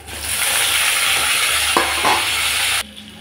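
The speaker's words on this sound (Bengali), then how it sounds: "আমার মাছও ভাজা হয়ে গেছে" Fish frying in oil in a pan, a loud, steady close sizzle that carries on without a break and cuts off sharply near the end, with a couple of faint stirring knocks.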